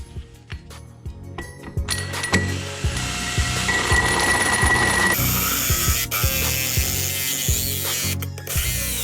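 A drill bores a hole into a Porsche 911 CIS airbox, a rapid, repetitive mechanical ratcheting with pulsing whine and clicks, close and fairly loud, shifting in pitch partway through.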